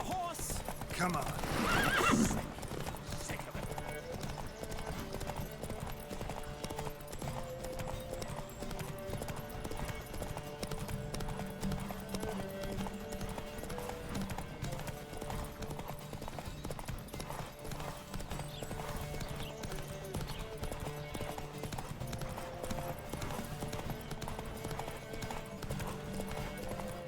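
In the video game The Witcher 3, hooves clip-clop in a fast, steady galloping rhythm throughout, after a horse whinnies near the start, with speech and music faintly underneath.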